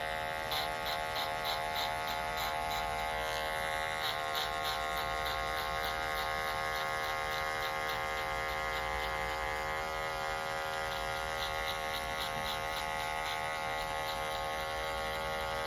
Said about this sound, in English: we're gonna take our Andes Masters clippers